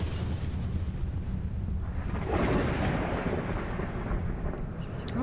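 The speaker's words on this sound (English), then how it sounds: "Oh, look at thunder and lightning." Thunder rolls as a deep, continuous rumble with a rushing swell of wind or rain noise midway, in a stormy night scene of the indie horror game The Beast Inside, with no voices.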